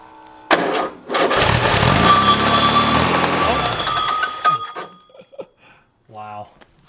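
A VW Type 3 engine is cranked and starts with fuel, catching into a loud, rough running roar that holds for a few seconds before cutting out, followed by brief voices talking.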